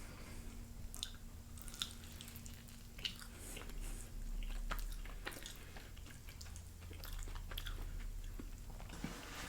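Close, quiet bites and chewing of a crunchy grilled cheese sandwich filled with macaroni and cheese, with soft crunches and moist squishes repeating over a low background hum.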